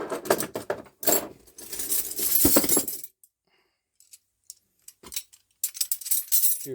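A Quinn ratcheting SAE wrench set hanging on carabiners: bursts of close metallic jangling and clinking, separated by a near-silent pause and a few faint taps, with no talking.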